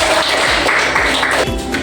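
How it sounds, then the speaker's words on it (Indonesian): Students clap in a classroom, a short burst of dense applause that thins out near the end, with some low taps under it. "Oke, kita kasih tepuk tangan dulu."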